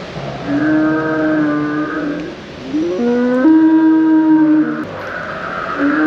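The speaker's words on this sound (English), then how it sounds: "first thing you get are all these kind of moving animals with strange obscure sounds" Long, moaning calls from animatronic animals, including raptors, with sliding pitches sound one after another over a steady background hum, eerie and mechanical.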